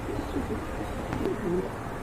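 A pair of fancy pigeons at a pigeon sale coo softly and intermittently over a steady background hum, low and murmuring.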